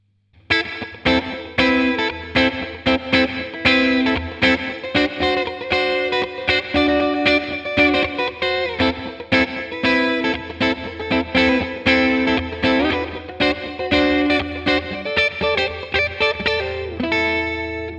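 Electric guitar played through a Crazy Tube Circuits Splash MK3 reverb pedal, steady strummed and picked chords with a lush, washy reverb tail and a slightly driven, chorused tone, loud and continuous with no talking.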